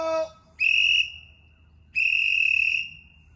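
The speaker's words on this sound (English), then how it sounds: "Waking everyone up with the whistle." A person blows two loud, sustained, shrill whistle blasts close by while out with hawks, each lasting close to a second and separated by a short pause. A faint brief call comes just before them.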